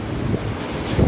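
Strong Super Typhoon Goni winds sweeping a city plaza in Naga, a loud, continuous roar buffeting the microphone with no voices.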